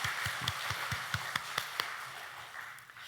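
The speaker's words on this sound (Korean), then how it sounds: "축하의 박수 올려드리겠습니다" A small church congregation offers congratulatory applause for the men's fellowship, a faint, sparse scatter of claps that thins out and fades toward the end, with no voices over it.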